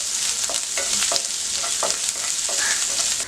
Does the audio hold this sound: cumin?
yes